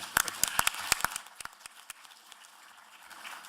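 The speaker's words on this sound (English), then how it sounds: "Let's have a round of applause for John." At a space symposium panel, a small audience gives a short round of applause, a few sharp separate claps up close that thin out and fade within a couple of seconds.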